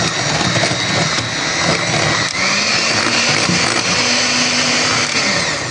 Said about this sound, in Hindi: ये थोड़ा सा हमने वनीला एसेंस डाला है और अब इसको भी मैं बीट करूँगी